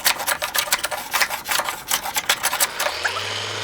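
A hand plane shaves a wooden workpiece in quick rasping strokes, about a dozen close, loud scrapes in a steady rhythm, followed by a low hum at the end.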